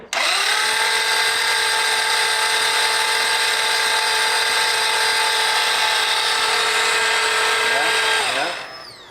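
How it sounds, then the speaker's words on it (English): A Ferrari F355 with a gated manual, freshly rebuilt, cranks on its starter to build oil pressure: a steady, loud, high-pitched whirring drone that runs unbroken for about eight seconds, then winds down and stops. "we're just gonna crank it until oil starts coming out"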